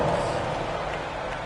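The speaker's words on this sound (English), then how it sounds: "give your Lakers youth dance team a big round of applause." A dense, steady roar of clapping from a large crowd at a Lakers basketball game fills the arena, loud and continuous throughout.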